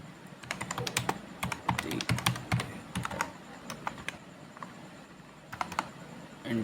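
Rapid bursts of close, crisp keystrokes on a computer keyboard as text is entered in 3ds Max, with brief pauses between runs of clicks and no talk.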